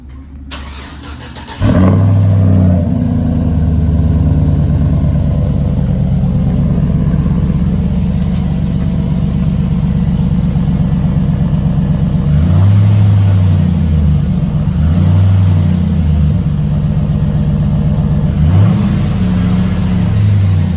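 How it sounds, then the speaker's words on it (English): A 2006 Chevrolet Silverado truck with stock intake and exhaust starts up, then idles loudly nearby with a deep steady rumble, revved several times in short bursts. "I'm gonna have her crank up the truck and give y'all a few revs and hear the truck for how it is right now."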